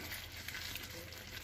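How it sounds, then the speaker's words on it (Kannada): Tomato gojju simmers in oil with a faint, steady sizzle and soft bubbling, heard close and alone. "ಈಗ ಸೈಡಲ್ಲೆಲ್ಲ ಎಣ್ಣೆ ಬಿಡುತ್ತೆ ಆ ಥರ ಕುದಿಯುತ್ತೆ"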